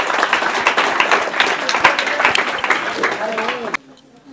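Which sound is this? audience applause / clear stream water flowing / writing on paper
audience applause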